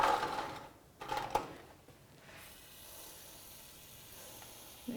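Brake cleaner hisses from an aerosol can in short, loud bursts onto the front brakes of a 2002–2006 Nissan Altima, then a fainter steady spray trails off.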